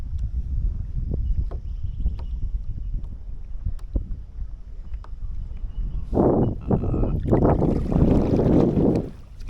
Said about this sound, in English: this wind is becoming very painful